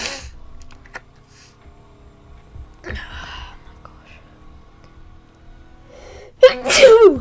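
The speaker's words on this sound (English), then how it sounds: "I need to sneeze." A single loud sneeze bursts out near the end, following several seconds of faint breathy whispering and low background noise.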